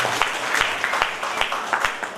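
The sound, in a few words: audience clapping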